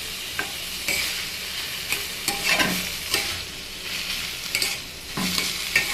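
Banana stem frying in a pan with green chilies, black cumin and sesame, stirred with repeated scraping strokes over a steady sizzle, close and fairly loud with no talk.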